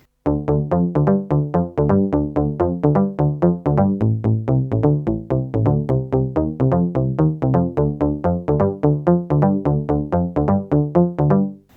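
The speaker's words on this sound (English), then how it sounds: "So I've used the cheesy bass and I prepared a pattern that sounds like this." Korg Volca FM playing a cheesy bass pattern in a UK garage style: a steady, punchy synth bassline of rapid repeated notes, loud and continuous with no talk.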